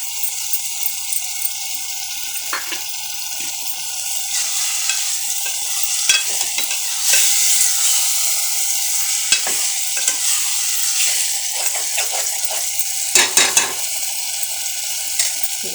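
Onion paste fries in a hot pan with a steady hissing sizzle, close by, broken repeatedly by scraping and clinking as it is stirred.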